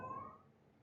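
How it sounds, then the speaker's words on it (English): A house cat gives a single short meow that fades quickly, faint and in the background of a lecture. "you might hear my cats in the background"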